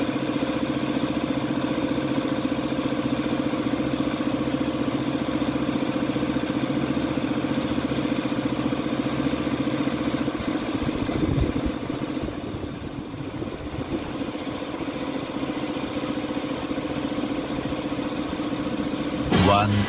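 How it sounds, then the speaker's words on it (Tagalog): A Yamaha Aerox 155 scooter, freshly fitted with a genuine Yamaha pulley set and center spring, idles with a steady, even engine hum close by for the whole stretch. "So mamaya, pa-start natin, subukan natin yung idle niya."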